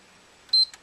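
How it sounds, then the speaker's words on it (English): A single short electronic beep from a PlayStation 3 console sounds in a quiet room, followed by a faint brief blip. "in about 5 seconds we're going to hear one beep"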